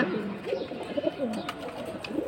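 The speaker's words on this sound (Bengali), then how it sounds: "তোতা শেপের সিলভার কবুতর" Silver pigeons of a parrot-shaped breed cooing close by in repeated soft rolling phrases, with light background rustle between the calls.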